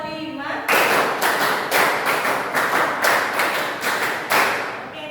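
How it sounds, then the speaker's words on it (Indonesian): A classroom audience claps in unison in six or seven short, loud bursts with brief pauses between them, a rhythmic group clap with no talking over it. "Oke, tepuk tangan untuk kita."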